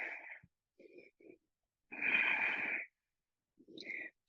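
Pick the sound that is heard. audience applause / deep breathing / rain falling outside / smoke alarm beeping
deep breathing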